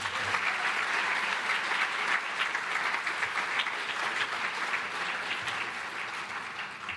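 Crowd applause at a Space Camp robotics graduation ceremony honoring teachers and chaperones; dense, sustained clapping from many people fills the room at an even level, easing slightly toward the end.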